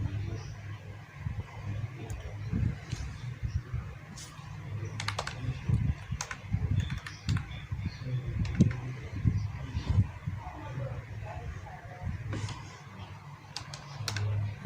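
Typing on a computer keyboard while designing a church flyer in Photoshop: quiet, continuous clicking of keys in uneven bursts over a low steady hum, close by and with no talk.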